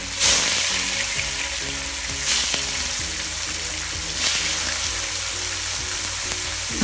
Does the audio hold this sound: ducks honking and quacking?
no